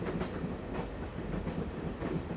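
A moving train in the video game Broken Sword rumbles steadily with a rhythmic clickety-clack of wheels, continuous and fairly close, with no voices.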